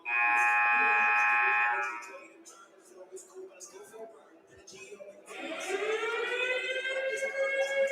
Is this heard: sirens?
yes